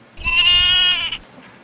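A sheep gives one loud, drawn-out bleat lasting about a second, with no other sound around it apart from a faint trailing echo.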